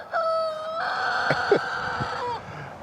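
A Dominique rooster lets out one full crow that rises and holds for about two seconds before trailing off, close and clear, with a few soft knocks and clucks mixed in.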